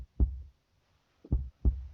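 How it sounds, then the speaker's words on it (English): A game heartbeat sound effect from The Letter thumps in low, heavy beats, one single beat followed after a pause by a close double beat, with no voices. "I can feel my heart pounding against my chest."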